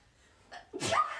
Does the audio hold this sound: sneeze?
yes